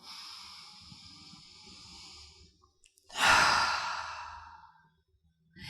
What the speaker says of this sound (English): Take a couple deep breaths. Maybe exhaling through the mouth.